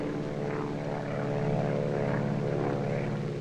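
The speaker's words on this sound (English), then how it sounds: "A 240-horsepower air-cooled engine gives the plane a maximum speed of 110 miles per hour" A Fieseler Fi 156 Storch with a 240-horsepower air-cooled engine drones steadily, its propeller hum loud and unbroken at close range.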